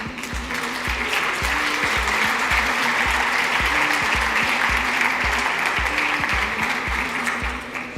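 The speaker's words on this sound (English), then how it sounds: "And we need a nice round of applause." Audience at a main stage award ceremony applauding winners, sustained even clapping over a continuous hall ambience, with a repeating low mechanical tone running underneath throughout.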